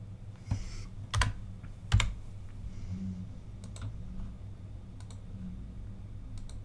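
Computer keyboard keys typed in short bursts with several sharper clicks, close and fairly quiet against a low steady background hum, no talking.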